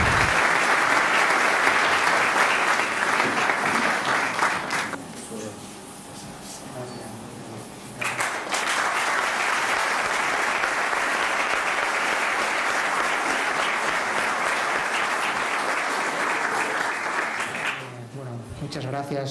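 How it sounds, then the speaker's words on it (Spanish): Loud, sustained applause from an audience at a sports awards gala, dense clapping that dips briefly in the middle, then swells again and continues before fading near the end. "Un fuerte aplauso, por favor, a Alberto Suárez."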